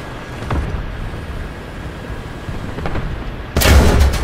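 Artillery fire in War Thunder lands as a few dull distant booms, then a loud close blast near the end, over low rumbling background.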